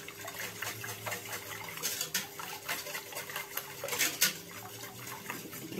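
A spoon stirring ingredients in a pot for a biscuit and flan dessert, light repeated scraping and clinking against the metal, close and fairly quiet, with no talk.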